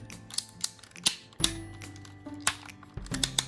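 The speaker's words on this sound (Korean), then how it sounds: "자, 이 상태에서 팔을 두 클릭 옮겨주시고" The plastic arm of a Tobot V Bigtrail transforming robot toy is worked into position. It gives a rapid series of sharp, small clicks and snaps, close up and fairly quiet.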